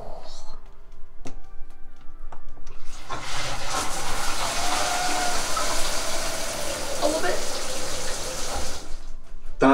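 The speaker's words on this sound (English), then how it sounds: "A button start shower." A push-button start shower in a show home bathroom, running as a steady hissing spray of water that starts after a few seconds and continues loud and close before cutting off at the end.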